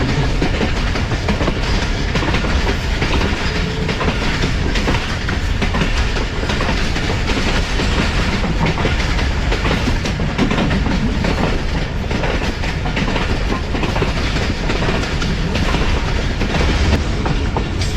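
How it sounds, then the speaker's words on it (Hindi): Jaffar Express passenger train running on rails as it enters Jacobabad, a loud continuous rumble with rhythmic clickety-clack of wheels over joints, heard from on board without pause. "ये ट्रेन हमारी जैकोबाद सिटी में दाखिल हो चुकी है और जैकोबाद जंक्शन पे स्टॉप होगा।"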